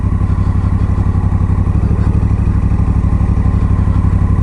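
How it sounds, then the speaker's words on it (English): A Honda vehicle runs loud and close while riding over snow, its engine chugging in a steady, rapid rhythm with a rattling edge throughout and no talking. "Riding the sled on the snow."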